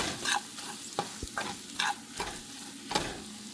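Ivy gourd slices with chili powder being stirred in a frying pan, with a spoon scraping and clinking several times over a soft, steady sizzle.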